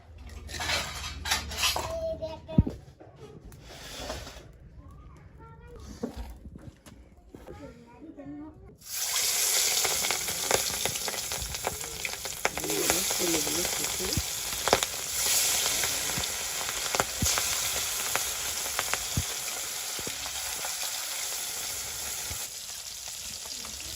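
Fish frying in a pan in a village kitchen: clinking pots and utensils give way to a loud, steady sizzle that carries on continuously, with brief talk early on.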